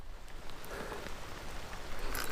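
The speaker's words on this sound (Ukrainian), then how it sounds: "Дощ іде" Steady rain falls outdoors during a fishing trip for silver carp, a dense, even hiss of drops striking nearby surfaces, with occasional louder individual droplets and no voices.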